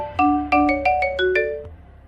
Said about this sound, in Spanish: de repente, el teléfono sonó.